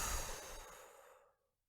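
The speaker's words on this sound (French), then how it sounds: "soufflez fortement par la bouche pour évacuer vos tensions inutiles" A single forceful breath pushed out through the mouth during a guided sophrology relaxation session, a close, airy rush that starts strong and fades away over about a second, then silence.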